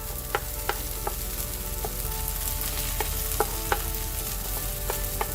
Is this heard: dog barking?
no